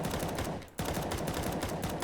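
Rapid automatic gunfire in Counter-Strike 2, rounds punching through a smoke cloud, a dense continuous burst that breaks off briefly near the middle and then resumes at full intensity.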